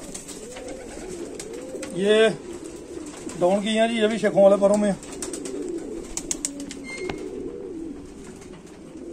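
Sheikho Wale pigeons coo softly in a loft, with low repeated cooing under a voice, which carries over them in several bursts.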